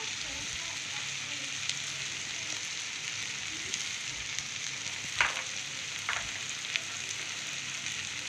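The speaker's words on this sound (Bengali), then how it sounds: "আর দিচ্ছি দেখো এই যে জিরার গুঁড়ো।" Ground cumin hits hot oil in a pan with a steady, close sizzle of frying, a few faint clicks of utensils breaking through the constant hiss.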